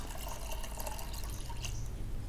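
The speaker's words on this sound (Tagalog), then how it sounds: "Isang baso ng tubig, ilalagay ko dito sa isang balde." Water from a glass is poured into a small bucket of primer paint, giving a steady liquid splashing and trickling sound that continues evenly throughout and is heard up close with no talking.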